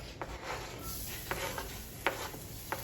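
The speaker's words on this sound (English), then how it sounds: "we're going to just throw in our onions and our garlic" Onions and garlic sauté in a pan with a faint, steady sizzle, broken by a few short scraping taps as they are stirred.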